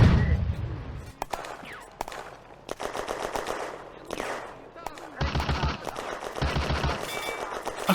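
Bursts of machine-gun and rifle fire in the WWII Eastern Front game Firefight, set around Saint Paraskevi Church, crackle in loud volleys of rapid shots with pauses between, while a soldier's voice calls out in German.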